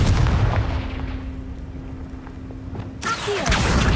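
A Confringo blasting spell detonates in the Hogwarts Legacy video game: a low rumbling build-up, then a sudden loud explosive boom about three seconds in, followed by a ringing tail.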